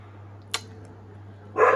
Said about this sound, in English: Oh, my dog is just barking.